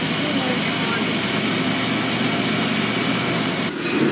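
A 4.3 liter V6 in a Chevy S10 pickup, fitted with a 700R4 transmission, roars loudly and steadily at high revs close by, dropping briefly near the end, while voices speak over it.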